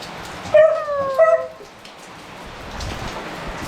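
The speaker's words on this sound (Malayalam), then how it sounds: "പപ്പു മഴ കാണുവാണോ ഏ മഴ ഇഷ്ടപ്പെട്ടോ" Rain falls steadily on a rainy day, a soft continuous hiss running throughout, while a dog lets out a few short whimpers and yips near the start.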